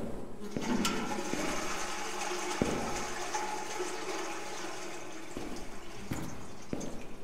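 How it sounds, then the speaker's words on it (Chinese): Toilet flushing inside a stall in the horror simulation game Lancaster Leak: a steady rushing gush of water fills the whole stretch, with a few sharp knocks over it and a gurgling tail near the end. "只是在经过一个隔间的时候，听到了里面的冲水声"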